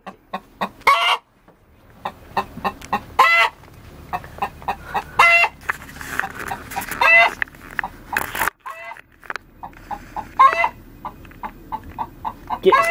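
Hens cluck and squawk in bursts inside a hen house, close and fairly loud, with a rooster-like call among them and a person talking at times.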